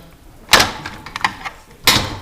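Front panel of a Sub-Zero refrigerator drawer being removed by pushing in small tabs: two sharp plastic snaps or knocks about a second apart, with lighter clicks and taps between them, close and alone.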